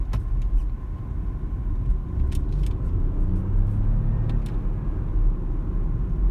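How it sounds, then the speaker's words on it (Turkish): A BMW 118i's three-cylinder engine, driven in Sport mode, gives a steady, close low rumble from inside the car with no speech. "3 silindirli motorun hem sesine bakarız"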